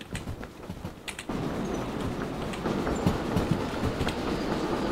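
A steam train in the Derail Valley video game rolls along with a steady rumbling clatter that swells louder after a brief quieter opening, no speech.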